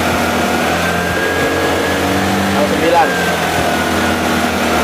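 Vespa Primavera 150 scooter engine idling with the throttle blipped, a steady close mechanical drone with a slight rise in pitch near the middle, running continuously throughout.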